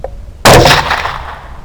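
A single loud 6.5 Grendel rifle shot, fired with Hornady V-Max ammunition while hunting beavers, cracks suddenly, then rolls away in a long echoing tail.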